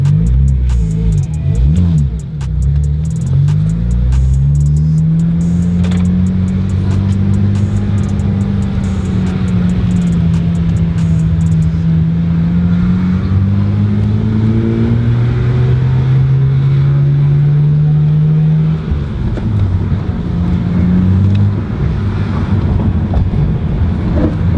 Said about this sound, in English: drive around the car for a little bit, test it out, see what's going on